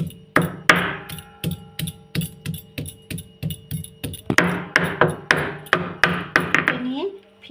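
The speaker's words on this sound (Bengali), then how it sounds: "এবার আমি মশলাগুলো শিলের মধ্যে বেটে নিচ্ছি।" Spices are ground by hand on a sil stone slab in a home kitchen. Close, regular knocking strokes repeat steadily about three per second, with a brief faster flurry near the end.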